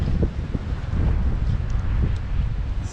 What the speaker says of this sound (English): Just the wind whipping.